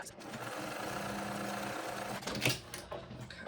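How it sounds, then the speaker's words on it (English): A sewing machine stitches a seam on a backpack, a steady rapid whirring hum running for a few seconds before a short clatter near the end. "So now I'm just going to go ahead and sew down this line."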